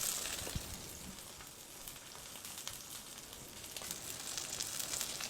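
A farm-raised capon supreme sizzles gently in a pan over low heat, a soft, steady frying crackle with scattered small pops.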